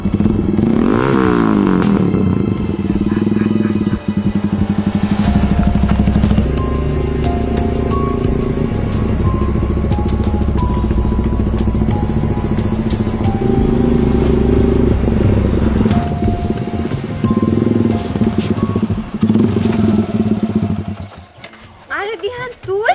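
A motorcycle engine runs loudly up close with a continuous rough roar and some clattering and revving, while voices talk over it throughout before the noise drops away at the end.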